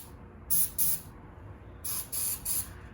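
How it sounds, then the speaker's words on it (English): Starting fluid sprays from an aerosol can into the engine of an old-school mini-bike under rebuild, in two pairs of short hissing bursts separated by a pause, close and fairly loud over a quiet background. "So I'm going to spray a little starting fluid in here."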